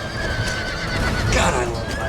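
A horse neighs and whinnies amid clip-clopping hooves during a battle in the video game Empire: Total War, with people chatting over the game sounds.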